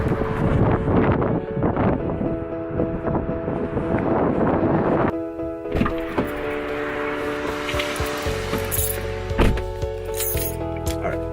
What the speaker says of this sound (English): Windy outside, so we're gonna talk right here.